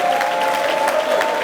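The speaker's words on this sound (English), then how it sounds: "I want you all to give yourself a round of applause at that name." Audience at a public lecture on the Milton Margai Technical University Goderich campus breaks into steady, dense applause, a continuous wash of many hands clapping with a faint murmur of voices underneath.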